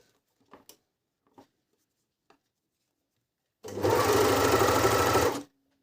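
An ELNA 904DE overlock machine stitches and trims fabric, its loud, steady motor hum and rapid blade chatter running in a single continuous burst of under two seconds after a few soft handling taps.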